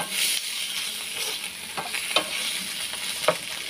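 Small pieces of pork belly (liempo) sizzle and crackle in a pan, with occasional stirring scrapes and a few sharper pops, moderately close and steady with no talking.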